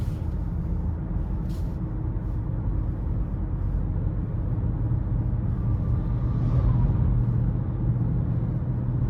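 Cabin of a 2023 Chrysler 300 Touring L with the 3.6 engine driving down the road, a steady low rumble of road and engine noise that stays even and fairly quiet throughout, with no talking.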